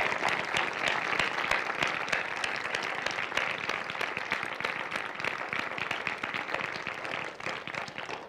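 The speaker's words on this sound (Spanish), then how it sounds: "Un último aplauso a ustedes y al doctor." Sustained applause from a lecture audience at a university talk's close, a steady even wash of many hands clapping, moderately loud and unbroken by voices.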